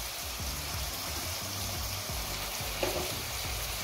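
Mutton liver fries with ginger garlic paste in a pan, giving a dense, even close-up sizzle with faint bubbling and one small stir clink.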